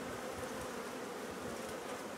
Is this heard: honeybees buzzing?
yes